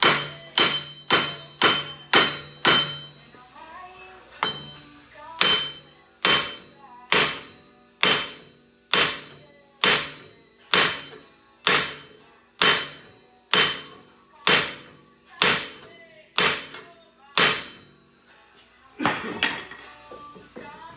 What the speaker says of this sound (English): hammering it outward